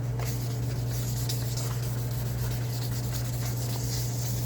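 Wet-sanding a car headlight lens with 800-grit sandpaper: a steady, close, continuous abrasive rubbing that never stops, over a constant low electrical hum.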